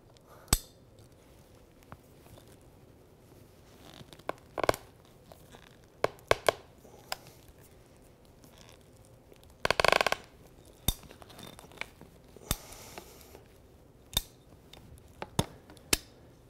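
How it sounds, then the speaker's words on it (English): A light duty cutter snaps through 1-inch PVC sprinkler pipe in short, sharp clicks and crunches, scattered irregular cuts close up over a quiet background, with no talk. "I'm going to cut this side out."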